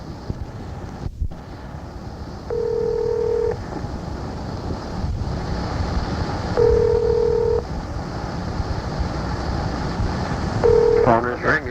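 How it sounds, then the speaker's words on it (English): Telephone call tones: three separate steady tone bursts at regular intervals, like a ringback signal on a line, over a constant hiss with some breathy noise, no voices. "Phone is ringing."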